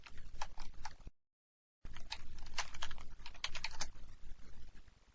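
Quick, soft clicking of keys on a computer keyboard with a short silent pause partway through, then more rapid keystrokes, close and quiet.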